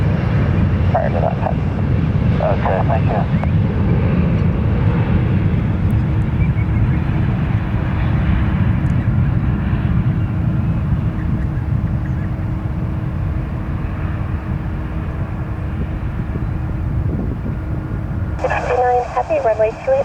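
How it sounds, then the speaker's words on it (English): An airliner takes off from runway 28 Left at San Francisco International Airport, its engine roar a loud, steady broadband rumble that holds through the whole stretch, with a brief radio crackle near the end. "runway 28 left, clear for takeoff."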